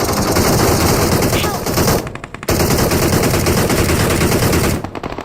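Sustained P90 submachine gun fire in PUBG Mobile, loud and dense rapid bursts that run almost without pause, broken by two short gaps.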